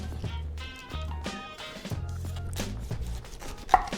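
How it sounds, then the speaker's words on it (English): A knife cuts through the end of a pineapple in a few firm, thudding strokes with some crunching between them, close up, with a brief sharp click near the end. "cut off the other end of the pineapple"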